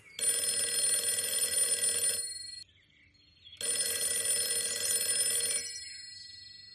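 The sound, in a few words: telephone ringing, audio story sound effect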